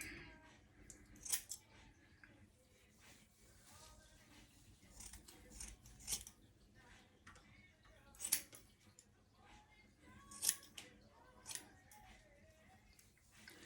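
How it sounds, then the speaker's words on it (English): Scissors snip hair off a wig at close range, a series of crisp, irregular cuts with quiet pauses between them and no talking. "I'm just gonna trim some of the hair off"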